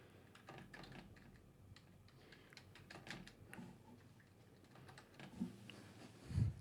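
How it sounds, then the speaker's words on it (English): Keys tapped on a keyboard while a Wi-Fi password is entered during a Hamclock setup, a quiet run of close, irregular clicks and taps lasting several seconds, with a couple of louder knocks near the end. "So I'm going to type in my Wi-Fi password."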